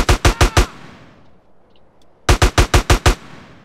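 Two bursts of loud, close gunfire in Grand Theft Auto San Andreas, a rapid string of four or five evenly spaced shots, a quiet gap with faint background, then a second string of about six shots.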